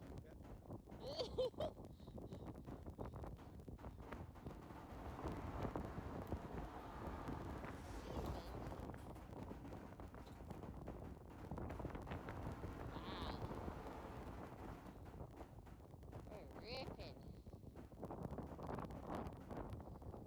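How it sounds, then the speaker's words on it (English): Strong morning wind buffets the microphone at a viewpoint above the small town of Waterton in Waterton Lakes, southern Alberta, a continuous low rumble with faint speech breaking through. "You can also tell how windy it was that morning."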